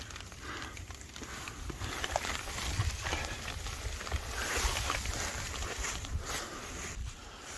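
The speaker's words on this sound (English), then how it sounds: "it is blowing and snowing out here like crazy." Wind roars steadily around a tarp shelter on an Appalachian mountain during a snowstorm at night. The blowing forms a constant broadband rush with swelling gusts, close and fairly loud.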